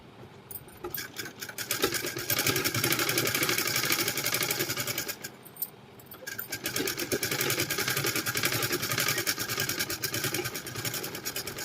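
Sewing machine running in long continuous stitching bursts along a blouse neckline, with a brief pause partway through, steady and close.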